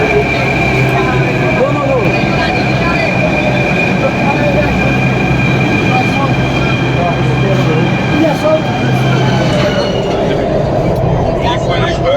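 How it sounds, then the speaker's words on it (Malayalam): A Delhi metro train arriving rumbles steadily with a continuous, loud mechanical drone and a sustained whine, while people talk beneath the noise. "ഇപ്പം നമ്മുടെ മെട്രോ വന്നിട്ടുണ്ട്"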